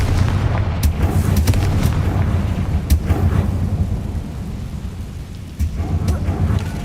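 Confringo, the explosive fire spell in the video game Hogwarts Legacy, cast amid heavy, rumbling low booms and crackling blasts in a continuous thunderous roar, with several sharp cracks on top.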